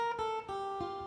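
A guitar plays a riff with an open bass note sounding a 6th chord, three soft plucked notes ringing in a quiet, close, evenly paced phrase.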